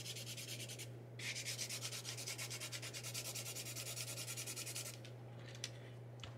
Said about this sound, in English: So basically we are just scrubbing the things